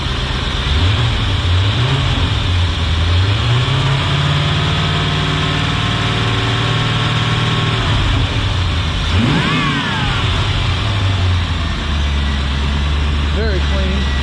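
A Chevy L98 TPI 5.7-liter 350 V8 from a 1989 C4 Corvette revs up and settles back to idle several times, loud and close, with a voice talking over it.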